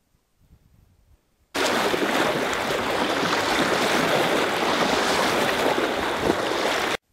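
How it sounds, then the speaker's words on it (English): Wind rushes through trees beside water where people are fishing for redfin, a loud, steady broadband roar that begins suddenly after a quiet moment and holds evenly for several seconds. "listen to the wind behind us in the trees"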